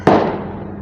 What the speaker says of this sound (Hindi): पटाखे फोड़े